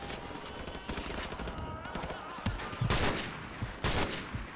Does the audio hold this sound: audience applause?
no